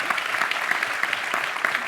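An audience at a live space-politics show applauds Nancy Chabot and Bill Nye with a steady, dense patter of many hands, moderately loud and even throughout.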